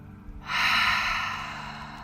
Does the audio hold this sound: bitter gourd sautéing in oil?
no